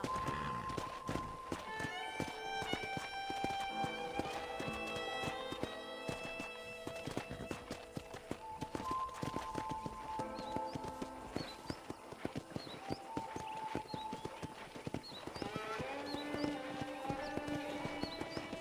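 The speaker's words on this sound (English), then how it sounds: "I picked out a fine horse for you." Horse hooves clip-clop steadily during riding in the Red Dead Redemption ranch, set against a busy game score with a few whinnies; the footfalls hold a fairly even rhythm at moderate volume, with no talk.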